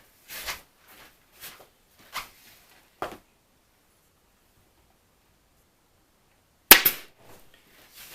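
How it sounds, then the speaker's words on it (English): A staple gun fires into the tacking strip of a swag valance: a few sharp, separate snaps in the first three seconds, a quiet pause, then one louder, closer snap. "Giving it a staple"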